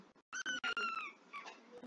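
A house cat makes several short, close mewing and chirping calls in quick succession, with brief gaps between them, fairly loud and alone without talk.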